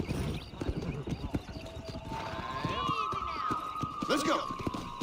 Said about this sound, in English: All right, I'll show you how we ride around these parts. Mount your horse.